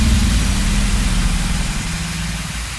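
A granular synthesis engine in the S Layer synth, its grain size and playback randomized, gives a dense, low, rumbling drone with a steady mechanical texture, loud and alone throughout, fading slightly toward the end.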